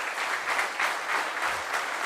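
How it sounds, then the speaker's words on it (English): A conference audience in a hall gives a sustained standing ovation, steady dense clapping throughout, with no talk over it. "Can we all stand up and give him a round of applause for what he's been doing?"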